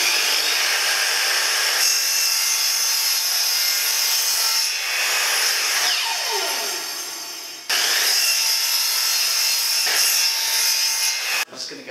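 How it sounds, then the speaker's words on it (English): A table saw cuts wood for a camper van table top, running loud and continuous with a bright whine and a rough cutting roar, briefly dipping and returning near the end. "line up your markings with the table saw and then you can start making your cuts"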